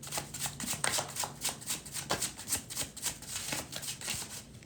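A deck of playing cards is riffled and shuffled in quick repeated bursts, close and crisp, with a rhythmic flutter about every quarter second and no talking during a tarot reading session.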